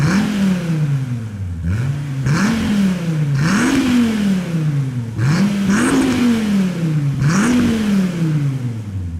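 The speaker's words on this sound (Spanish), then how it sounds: "Y por supuesto el escape suena bastante bien" A Dodge Viper SRT exhaust revs hard in repeated rising-and-falling sweeps, roughly five throttle blips in a steady rhythm, loud and close with no talking over it.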